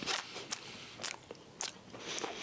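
Crunchy food bitten and chewed close to the mic: several sharp crunches in quick irregular succession, fairly quiet, with no talking.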